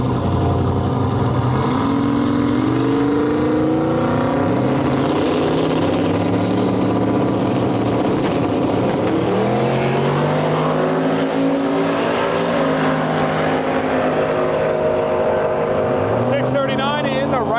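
A Chevrolet Camaro Z28 with a Rossler transmission makes a drag strip pass at the Miles of Mayhem drag-and-drive event in Canada. Its loud engine roars steadily, with revving harmonics rising and falling through the run.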